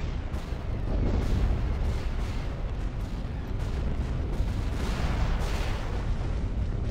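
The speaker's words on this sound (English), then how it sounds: "Artillery's really sinking their teeth into us." Continuous rumbling artillery fire in a video game battle, with dense booming blasts overlapping into a heavy roar that holds steady for several seconds.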